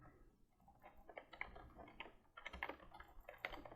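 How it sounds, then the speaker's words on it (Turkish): Keyboard and mouse clicks come from someone playing a computer game, a quick uneven patter of soft clicks and key taps, close and fairly quiet. "klavye mouse sesleri geliyorsa kusuruma bakmayın"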